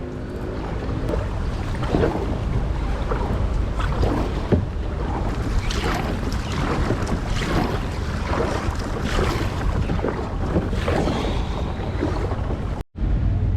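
Boat heading out to open sea off Ceuta, with strong wind buffeting the microphone and a continuous roar of engine and water rushing past, loud and unbroken throughout.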